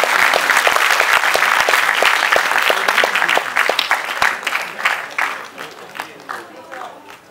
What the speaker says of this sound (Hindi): एक बार इन बच्चों के लिए जोरदार तालियों से स्वागत कीजिए।